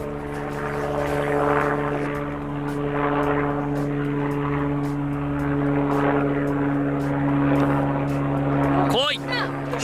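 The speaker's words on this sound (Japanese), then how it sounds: "空からヘリで空撮入ってます" A helicopter flies over a Hokkaido golf course for aerial filming of play on a long par five, a steady, droning engine hum sustained throughout with voices talking nearby.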